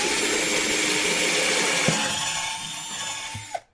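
A power drill bores 1/8 inch pilot holes during a Corbin Tidy Tail install on a Zero SR/S motorcycle, a steady whining hiss that tapers slightly before stopping with a small click.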